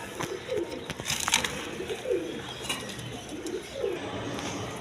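Yellow Rasgolla pigeons cooing in a cage, several soft rolling coos repeating close by over light background noise and occasional clicks.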